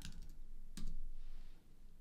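Fingers tap a computer keyboard in a short burst: a couple of quick keystrokes, then a louder clack followed by softer tapping, close and without talk.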